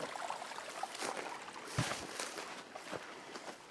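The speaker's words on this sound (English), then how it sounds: "See quite a bit of water flowing out." Water running out from an old mine at the top of a dump pile, a faint, steady trickling and splashing flow heard close by with no talk.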